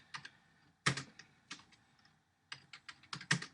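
Code being typed on a computer keyboard, close irregular clusters of key clicks with short pauses between bursts, no talking.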